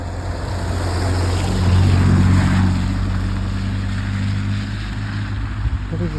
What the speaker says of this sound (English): Loads of traffic.